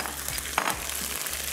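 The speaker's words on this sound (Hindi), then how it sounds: "और खूब अच्छे से भुनाई करनी है" Boiled mutton frying in oil flavored with curry leaves and fenugreek, giving a steady close sizzle with a few soft stirring scrapes and no talking.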